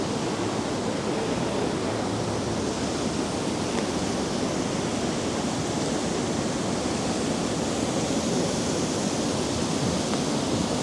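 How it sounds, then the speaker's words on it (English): Steady rushing water pours continuously at Paterson Great Falls in winter freeze, a dense even hiss and roar like a small waterfall, unchanging throughout. "it's so relaxing. With the moving water."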